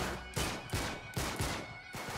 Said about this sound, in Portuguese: Caralho, dá pra acertar o tiro, Hayashi.